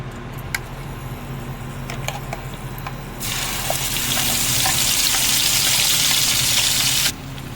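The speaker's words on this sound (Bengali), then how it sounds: "তেল ভালোভাবে গরম হয়ে গেছে, তেলের মধ্যে দিয়ে দেব আমি পিষে রাখা মশলা।" Ground spice paste dropped into hot mustard oil in a kadai for a soybean and egg curry bursts into a loud, steady, hissing sizzle partway through, holds close and bright, then cuts off abruptly.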